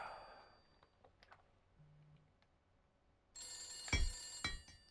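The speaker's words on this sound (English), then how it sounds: "where the fuck's this phone at?" An old telephone rings inside a building in the horror game The Beast Inside. Soft scattered clicks come first, then a loud, sudden burst of ringing near the end.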